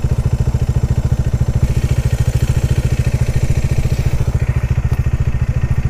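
A motorcycle engine idles at a standstill on a road trip from Assam to Nepal, close and loud, with a steady rapid throbbing pulse and no one speaking.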